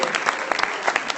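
Applause from a faith leaders' summit audience at USC, a dense patter of many hands clapping steadily and fairly close, with no voices over it.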